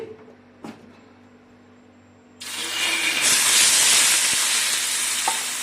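Butter mixed with water drops into a hot kadai and erupts into a sudden loud, bright sizzle and hiss of steam that swells and holds steady, following a quiet stretch with a couple of faint clinks.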